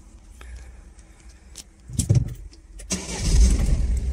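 A Peugeot 3008 engine is started with the ignition: a brief click and crank burst, then the motor catches and runs loudly, close by, in a quiet car interior.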